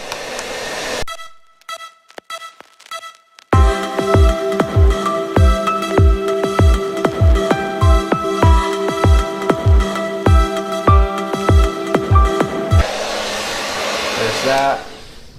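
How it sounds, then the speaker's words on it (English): Hair blow dryer running steadily and loudly close by during work on a Kawasaki KLX110L dirt bike's graphics, a continuous whooshing roar with a brief quiet gap before it starts; a short spoken remark comes near the start. "I'm trying the blow dryer now, and it seems like it's going a lot easier."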